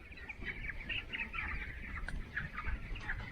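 Chickens on a poultry farm keep up a faint, steady clucking and chatter that overlaps from several birds, with no voices.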